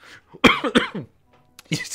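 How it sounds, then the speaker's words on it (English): A sharp, loud cough bursts out close to the mic in a short cluster of two or three hacks, with a fainter throat-clearing sound a moment later during a tense stretch of a Kitty horror game stream. "You scared me so much I coughed."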